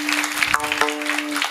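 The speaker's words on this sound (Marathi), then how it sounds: "तिघांकरता एकदा जोरदार टाळी वाजवा." Audience applause for three performers: a dense, loud patter of clapping over a steady held musical tone that fades out near the end.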